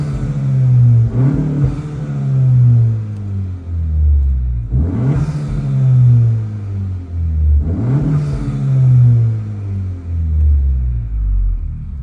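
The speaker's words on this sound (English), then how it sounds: "Here's just a couple little revs." An 11th-generation Honda Civic fitted with a hybrid cold air intake and a loud exhaust is revved up from idle twice. Each rev climbs sharply in pitch and then sinks slowly back to a deep idle rumble, close and loud.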